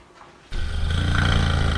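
A loud, rumbling snore for the Gruffalo bursts in suddenly after a brief quiet moment and holds as one deep, growly, sustained sound.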